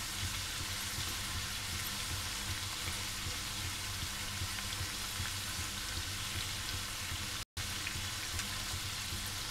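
Fafda frying in hot oil, a steady dense sizzle and crackle that carries on unbroken, close and even, with a single momentary drop out near the end.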